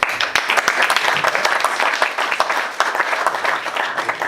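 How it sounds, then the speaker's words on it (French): An audience at a talk or conference breaks into sustained applause, a dense, even patter of many hands clapping, fairly close and loud, holding steady for several seconds with faint voices mixed in. "on peut les applaudir"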